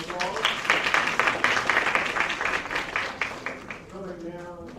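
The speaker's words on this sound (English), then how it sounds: "All right, let's give him another round of applause." Audience applause in a symposium hall, a broad steady wash of clapping at moderate level, with speech over it and a voice returning near the end as the clapping fades.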